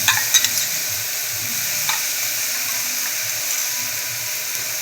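A spoonful of ginger paste sizzles in hot oil in a pan with onions for salna, a constant bright hiss with a few clacking stirs of a spoon near the start.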